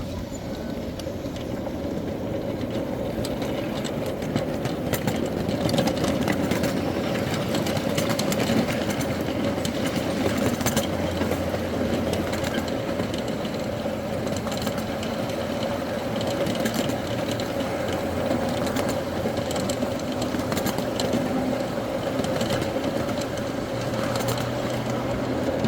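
A live steam miniature train running on track at night, with a steady rhythmic chuffing and rolling clatter of wheels over rails, sustained and fairly close throughout.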